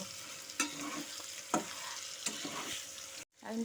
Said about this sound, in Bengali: এখন লবণটার সাথে আলু আর পটলটাকে ভালো মতো করে মিশিয়ে নেব